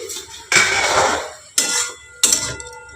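A lid comes off a cooking pan of red spinach, giving three loud, close metallic clatters: one long rattling lift and two shorter clanks, with a quiet sizzle between them.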